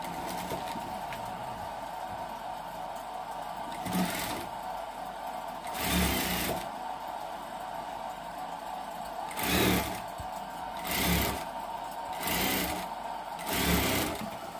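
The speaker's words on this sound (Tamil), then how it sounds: "லைனிங் மடிச்சடிக்கிறோம்." A sewing machine stitches umbrella lining with a steady mechanical hum, broken by several louder bursts of running stitching that start and stop at intervals.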